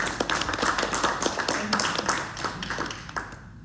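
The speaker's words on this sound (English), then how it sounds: "Let's give another round of applause." Conference audience at a doctoral forum clapping steadily for a few seconds, a moderate, even patter of many hands with individual claps standing out.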